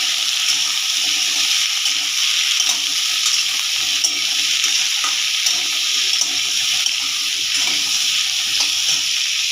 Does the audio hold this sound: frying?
yes